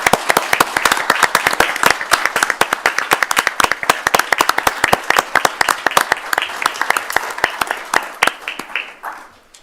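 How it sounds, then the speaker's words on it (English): An audience at a school board meeting claps for honored students, crisp individual hand claps close by, steady for several seconds before fading out. "So please help me in giving them a well-deserved round of applause."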